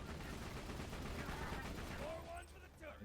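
Rapid gunfire from the early access gun in Borderlands 2, a steady stream of shots under game effects and turret noise, fairly faint and continuous before tapering off.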